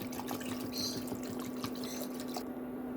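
Cooking water is poured into a pot for a rice and fish dish, a steady, faint splashing trickle running continuously close by, with no voices.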